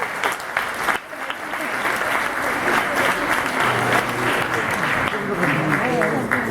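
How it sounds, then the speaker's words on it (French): Sustained applause from a magic gala audience fills the room, a dense steady patter of many hands clapping at close range. "On les applaudit très fort."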